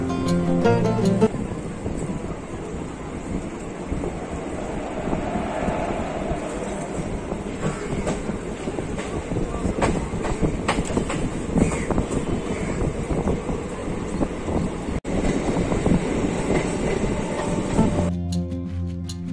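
Aboard an Indian Railways MEMU passenger train on the Chittaranjan–Asansol route, a steady rolling rumble of wheels on rails mixes with wind noise throughout, then cuts off abruptly near the end.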